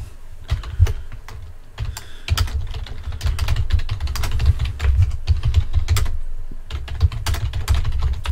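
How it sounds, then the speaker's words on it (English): Rapid clattering keystrokes on a computer keyboard during a fast bullet chess game online, dense irregular bursts of clicks with brief pauses, close and fairly loud, with no talking. "Is my typing working? Don't tell me I can't type anything."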